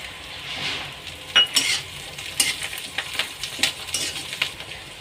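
Finely chopped coriander frying in hot oil for Khandeshi bharit, an eggplant dish, gives a steady close sizzle with a few sharp metal clinks and scrapes from stirring.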